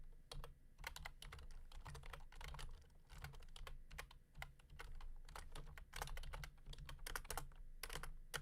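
Rapid, irregular typing on a computer keyboard, close and clear, with bursts of keystrokes separated by short pauses over a steady low hum, no voices.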